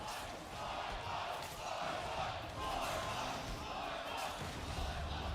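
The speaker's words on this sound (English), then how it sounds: "The crowd is loving it. The Voyboy cheers coming in." Arena crowd at a celebrity ARAM League of Legends match cheers for Voyboy, a steady, dense roar of voices that stays loud throughout with swelling shouts.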